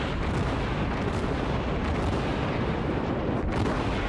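Naval gunfire in the World of Warships game from a Tier III St. Louis cruiser: loud, sustained booming salvos and rumbling explosions that blend into one continuous roar.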